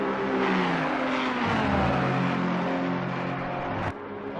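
A Ferrari race car roars loud and close through the bus stop chicane at a 24-hour endurance race at Spa, its engine note shifting with gear changes and braking before it drops away.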